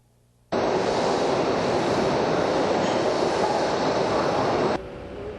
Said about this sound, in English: We're at the new Metro station in Glenmont, Maryland